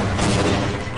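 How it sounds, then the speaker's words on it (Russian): A grenade blast in the Half-Life video game, a loud, dense boom with a noisy rumbling tail that fills the whole moment. "А-а-а, граната!"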